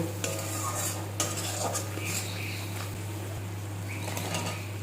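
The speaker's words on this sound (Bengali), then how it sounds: "পনিরগুলো দিয়ে দিলাম মশলার সাথে পনিরগুলো ভালো করে মিশিয়ে নেবো" Paneer cubes are stirred into a sizzling spice paste in a pan for a Kashmiri red paneer dish, as a metal spatula clinks and scrapes against the pan in uneven strokes over a low constant hum, with no talking.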